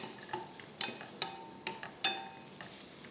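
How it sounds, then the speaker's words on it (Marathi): Capsicum, onion, lemon juice and roasted paneer tossed together in a pan on high flame, heard as a series of distinct spatula scrapes and clinks over a quiet sizzle, with no talking. "हे सगळं आपल्याला एकत्र करायचं हाय फ्लेमवर"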